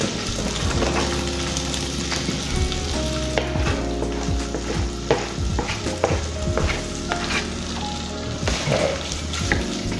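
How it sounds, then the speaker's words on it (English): Spam slices frying and being stirred in a hot pan, a steady loud sizzle with repeated scrapes and clanks of the utensil against the pan, while a person briefly speaks. "we are going to go ahead and get our Spam cooked up real nice and"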